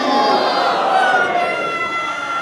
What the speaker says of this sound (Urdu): دونوں ہاتھ بلند کر کے نعرہ حیدری